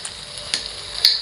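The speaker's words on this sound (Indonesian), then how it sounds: "Kita aduk merata, kita tes untuk rasanya." Sauce thickened with cornstarch and water being stirred in a pan for beef bulgogi, a soft bubbling simmer with a few light spoon scrapes and taps against the pan.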